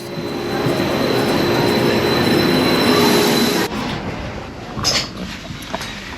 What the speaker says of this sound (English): On the train, ready to go to Berlin.